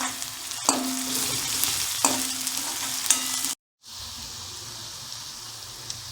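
Onion with mustard seeds, asafoetida and ginger-garlic paste frying in oil in a kadai, a steady close sizzle with a few stirring scrapes, briefly cut to silence midway before the frying resumes.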